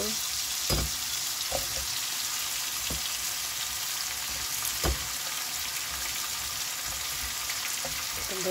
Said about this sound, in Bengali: একটু ভেজে নিতেছি রসুন দিয়ে।